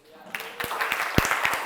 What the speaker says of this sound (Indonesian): Betul, luar biasa, tepuk tangan.